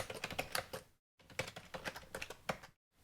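A computer keyboard clicks rapidly and close up as a commit message is typed, with two quick bursts split by a brief pause and no talking.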